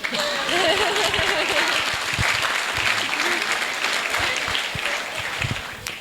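Guests at a wedding reception applaud the parents, with sustained dense clapping filling the room for about six seconds while a few voices call out over it.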